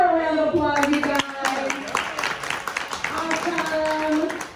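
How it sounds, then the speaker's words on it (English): A theater audience at a live horror makeup show at Universal Studios Florida claps through the whole stretch, steady but not thunderous, while a presenter's voice keeps talking loudly over it. "Give her a round of applause"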